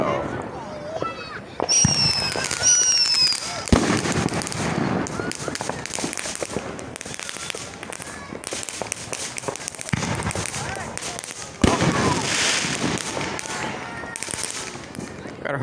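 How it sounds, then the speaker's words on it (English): Fourth of July fireworks and firecrackers burst nearby in a busy neighborhood, sharp cracks and booms arriving irregularly with crackling tails, while a person exclaims over them. "Fireworks back there are doing the ultimate."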